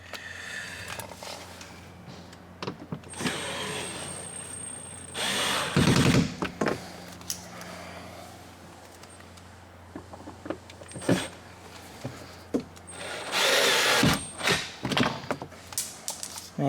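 Window regulator bolts are tightened inside the door of a BMW 328i with a whirring power driver. Short mechanical bursts are scattered among clicks and clunks of the work, with a few louder runs of the tool.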